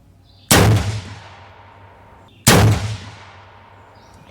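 Two loud AR rifle shots fired at an outdoor range, each a sharp crack followed by a long echoing decay, spaced about two seconds apart with no talking.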